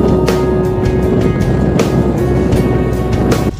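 A vehicle drives along on a trip to fetch water from a hand pump, giving a loud, steady low rumble with wind-like noise throughout and a few brief knocks.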